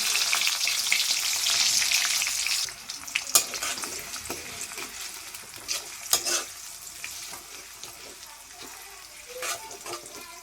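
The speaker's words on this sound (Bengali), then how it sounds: "আমি এখন মাংস রান্না করার জন্য তেলেতে পেঁয়াজ দিয়ে দিব" Onions frying in hot oil for a chicken curry, a steady bright sizzle that eases after a few seconds, with intermittent clinks and scrapes of stirring.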